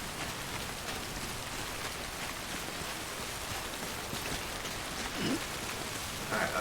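Steady rain falling in the video game Death Stranding, a dense, even hiss of raindrops that continues throughout at a soft level with no voices.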